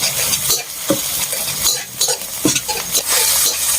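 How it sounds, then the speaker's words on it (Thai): Pork being dry stir-fried in a pan for a southern Thai khua kling dish: continuous sizzling with repeated scraping and clattering of a utensil against the pan, close and fairly loud, with no talk. "ผัดจนแห้งนะคะ"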